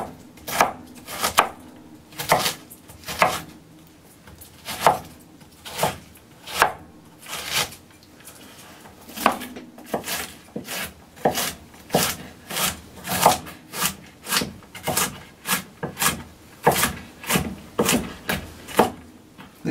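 A heavy kitchen knife shreds a cored cabbage on a board for coleslaw, its chops coming as a steady run of sharp, close thuds with a few brief pauses.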